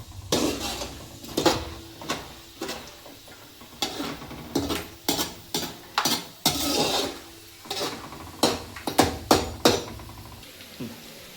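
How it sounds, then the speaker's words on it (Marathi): Peanuts being roasted for poha chivda are stirred in a pan with a utensil, giving irregular metallic scrapes and clinks with a faint sizzle, fairly quiet and with no talking. "लाल होतपर्यंत भाजायचे शेंगदाणे"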